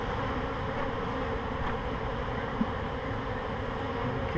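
Steady, dense buzzing of many honey bees from a swarm close by, continuous and fairly loud throughout with no talking.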